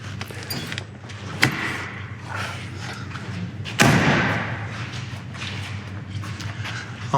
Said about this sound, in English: do you want to shut that door one more time, Dave?